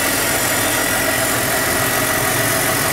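A 2000 BMW 528i engine idles, heard from underneath the car as a steady, loud mechanical hum with continuous vibration and no talking.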